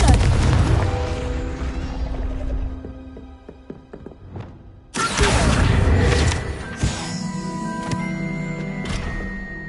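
A Confringo blasting spell in the Hogwarts Legacy video game goes off with a loud booming burst that drops away, followed by a second heavy blast around the midpoint and a sustained rumbling, ringing tail of game effects.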